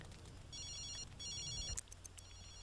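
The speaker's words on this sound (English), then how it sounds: "And ignore that phone call." A telephone rings in The Sims 3 with Ambitions and Toddlers, two quiet electronic trilling bursts followed by a few short clicks and chirps, faint against a low background hum.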